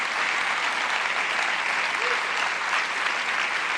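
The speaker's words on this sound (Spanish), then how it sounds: "¿Cuántos le dan un aplauso al Señor?" A church congregation applauds together, a dense, steady wash of clapping that holds evenly at full strength from start to finish with no breaks.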